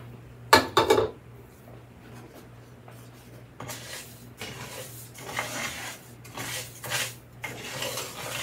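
Short grain rice toasting in avocado oil in a skillet over a burner just above medium, heard as soft, dry scraping and rustling in several bursts, with a sharper clatter near the start and quieter stretches between.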